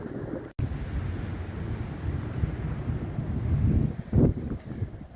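Steady wind buffeting the microphone on a street in downtown Branson, Missouri, a low rumbling roar that swells louder near the end, with no voices.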